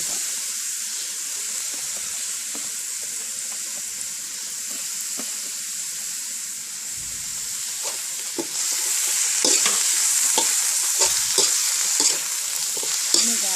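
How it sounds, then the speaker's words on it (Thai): Mixed vegetables stir-fried with cooked pork in a pan, steady sizzling under repeated scrapes and taps of a utensil, growing louder and busier toward the end, no voices. "หมูสุกแล้วกะผัดผักเลยจ้าก็ผัดใส่เลย"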